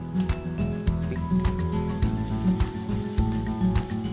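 Chopped onion sizzles in hot oil with red chilies, hing and kaffir lime leaves, a steady close frying hiss with recurring stirring scrapes and a low background hum, no talk.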